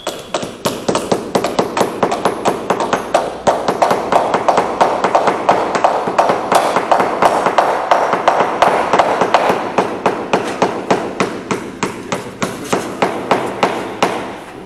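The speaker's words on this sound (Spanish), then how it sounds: "Vamos a empezar a clavar en algunas zonas." Rapid, steady hammer blows drive nails into the edges of a fiberglass mural panel, dozens of sharp close taps in a quick continuous rhythm with no talking.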